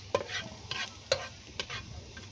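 Garlic frying in a pan for fried rice, a soft sizzle with scraping stirs in short bursts, fairly close and moderately quiet, with no talking.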